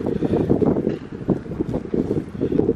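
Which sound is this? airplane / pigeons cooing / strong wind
strong wind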